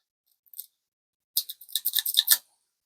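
Snips cut off the end of a 3D printed plastic part from a Bambu A1 printer, giving a brief crisp click and then a second or so of sharp crunching snaps close by, with silence before and after.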